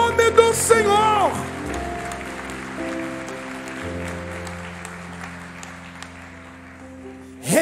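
Church congregation clapping in praise of the Lord during a sermon on grief, a moderate wash of hands under a sustained keyboard chord, with a brief voice at the start.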